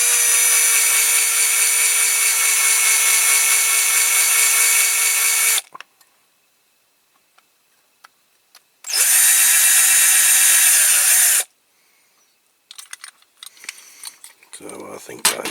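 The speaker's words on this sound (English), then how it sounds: "we've got to drill this rivet here to get the interior out" Power drill boring out a rivet on a die-cast Corgi Major Ford car transporter toy cab: two loud, steady high-pitched whines, the first about five seconds, a pause, then a shorter burst, followed by faint handling clicks.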